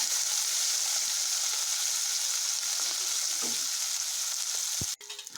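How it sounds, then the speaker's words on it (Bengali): Shrimp sizzles steadily in hot mustard oil in a wok, a close, continuous frying hiss with a few stir clatters near the end. "সর্ষের তেল গরম হলে মাছগুলোকে লাল লাল করে ভেজে নেব"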